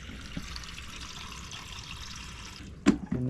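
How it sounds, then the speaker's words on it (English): Water drains steadily from a water cooler's cold water tank, a continuous close hiss and trickle that stops near the end, followed by a couple of sharp clunks. "And now I'm going to finish draining the cold water tank."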